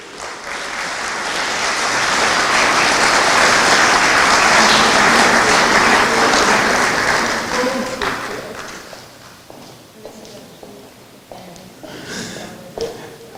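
An awards ceremony audience gives sustained applause that swells over several seconds, peaks, then thins into scattered claps and a few voices as it fades.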